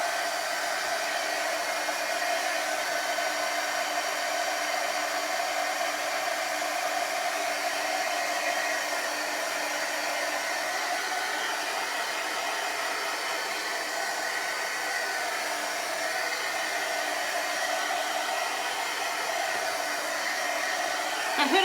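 A hair dryer blows steadily on chalk paint coating a wooden Lazy Susan, a close, constant whooshing roar that holds an even level for over twenty seconds with no voices.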